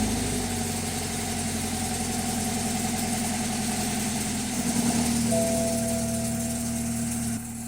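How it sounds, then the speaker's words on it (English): A 2013 BMW 328 with a low oil pressure fault idles steadily, giving a quiet, even hum with a low rumble and a faint whirring tone, with a small shift in the note partway through. "Gonna go ahead, start it, and let it run for a while."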